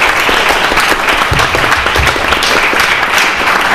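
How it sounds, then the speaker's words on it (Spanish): Loud, close applause from the audience at a book talk on Pier Paolo Pasolini, honouring three speakers. The dense, steady clapping fills the whole clip. "Un aplauso para los tres."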